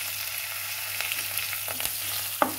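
Green chillies frying in a pan for an aloo dish, giving a continuous moderate sizzle with a few scraping stirs and one sharper clink near the end, no speech.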